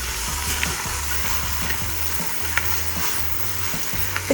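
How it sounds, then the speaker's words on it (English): Pasta is tossed and stirred with breadcrumbs in a hot pan: a continuous close sizzle broken by repeated scraping and shaking strokes, with no talking. "In with the pasta, give that a little shake. Don't want my breadcrumbs to go soggy. Stir it around."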